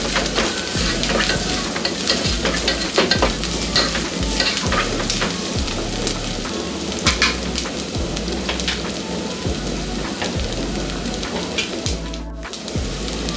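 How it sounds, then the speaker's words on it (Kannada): Ginger garlic paste fries in a pan, a steady dense sizzle and crackle running throughout, close and fairly loud, with occasional stirring scrapes. "ಶುಂಠಿ ಬೆಳ್ಳುಳ್ಳಿ ಪೇಸ್ಟು ಹಸಿ ಘಾಟು ಹೋಗೋ ತನಕ ಇದನ್ನು ಫ್ರೈ ಮಾಡ್ಕೊಳ್ಳೋಣ"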